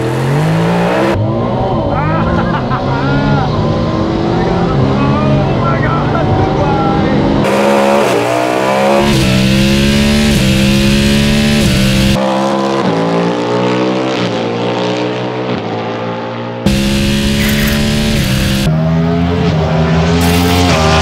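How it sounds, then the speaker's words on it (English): Race cars launch hard from a standing start on a course marked with cones, among them a Cadillac Le Mans car, Ferrari 296, McLaren 750S and Porsche 911 Turbo S. Loud engines rev and climb through gears in repeated rising sweeps, close and continuous. "I'm gonna go down to second gear. Swing across the cones. Flooring it."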